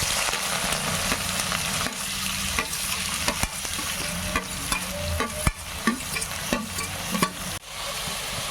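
Mustard seeds and five large chopped onions fry in hot coconut oil for egg curry, a dense crackling sizzle broken by frequent scraping spatula strokes and sharp clicks against the pan, close and fairly loud.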